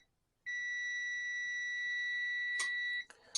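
A multimeter's continuity test gives a steady, high-pitched electronic beep for about two and a half seconds, followed by a couple of short clicks and a brief second beep.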